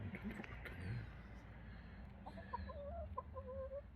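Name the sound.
chicken clucking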